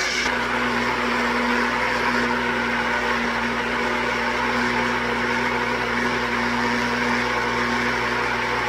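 A blender grinds barley with water for barley gochujang, a steady loud motor whine with a dense churning roar that holds without break from start to finish.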